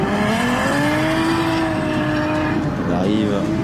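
A Nissan S13 drift car accelerates out of a hairpin at a French drift championship round, its engine note climbing steadily and then shifting near the end, with a commentator talking over it throughout.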